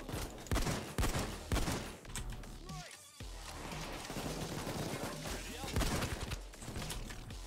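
Rapid gunfire crackles in a heist video game, dense bursts of shots running nearly throughout amid busy game sounds.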